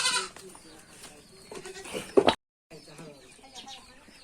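Goats bleat in short wavering calls amid farmyard noise and people talking as they are let out of their pen, with a loud burst just before a brief silence.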